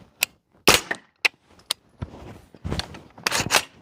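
Several suppressed 9mm pistol shots fired through an Angstadt integral Vanquish suppressor, sharp muffled cracks spaced unevenly with a quick cluster near the end, close and fairly quiet.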